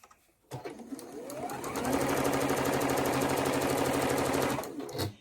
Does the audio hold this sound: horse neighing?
no